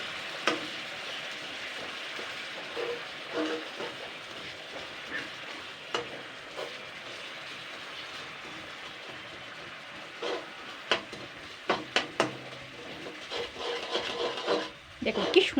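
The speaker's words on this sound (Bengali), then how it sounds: "এবার আমি খুন্তিটা দিয়ে আস্তে আস্তে নাড়াচাড়া করে নেব" Mango pickle cooking with sugar being slowly stirred with a metal spatula in a pan, soft continuous rasping and scraping with a low sizzle beneath and sharper clinks toward the end.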